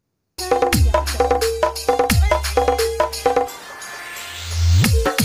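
A punchy remixed dance track played in FL Studio Mobile, with heavy, repeated bass hits and chopped synth chords, followed by a brief rising sweep before the beat drops back in.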